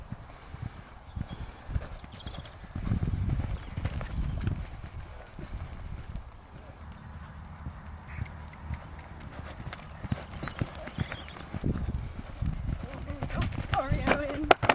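A horse's hooves thud softly and irregularly on a sand arena during cross-country style jumping, muffled and uneven under people talking.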